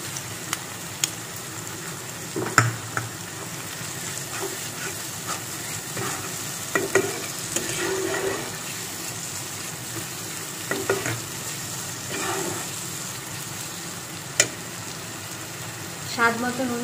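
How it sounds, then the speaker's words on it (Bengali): Spiced masala with chilli powder frying and being stirred in a pan for a Bengali chicken curry, a steady sizzle broken by scraping spoon strokes and clinks, with brief speech at moments. "মশলাটা ভালোভাবে কষাতে কষাতে ছেড়ে আসছে। এবার আমি এর মধ্যে টমেটো পিউরিটা দিয়ে দেবো,"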